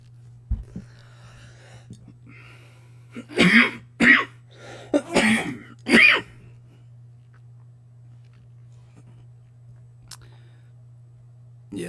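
A few short throat-clearing coughs in a quiet room, clustered together near a steady low electrical hum, with silence before and after.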